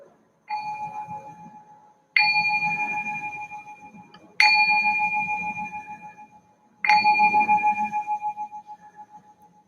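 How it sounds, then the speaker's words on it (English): A meditation bell is struck four times at slow, even intervals. Each bright, pure tone rings out clearly and decays slowly with a gentle shimmer. The room is otherwise quiet and no one speaks. "I ring the bell to signal the start of meditation"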